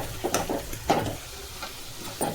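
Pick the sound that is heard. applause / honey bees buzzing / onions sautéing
onions sautéing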